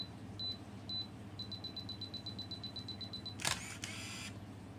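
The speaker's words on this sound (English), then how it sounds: "聽到嘟嘟聲咧，就去對好焦嚇，咁啊準備係呢個 self timer 啦" Beeping from a Canon EOS Kiss film SLR self-timer: a few spaced high beeps, then a rapid, steady run of beeps, ending in a brief mechanical shutter clatter and a short whir, heard alone in a quiet room.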